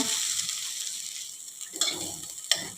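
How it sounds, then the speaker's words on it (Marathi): Fresh grated coconut is roasted in a pan with poppy seeds for a modak filling, giving a soft, steady sizzle with a couple of brief stirring scrapes toward the end. "हा चव आपल्याला एखाद मिनिटभर छान असा परतून घ्यायचा आहे"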